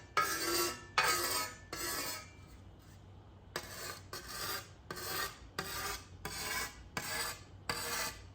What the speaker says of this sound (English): Kind of new to scything and really enjoying it.